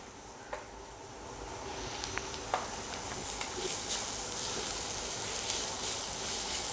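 Crushed cumin and coriander sizzle faintly while being stirred into a homemade pizza sauce, giving a soft, continuous crackle with a few small scraping clicks.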